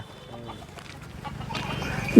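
Chickens on a lemon farm cluck softly in short, scattered bursts, fairly distant, with quiet outdoor background noise and a brief louder knock at the end.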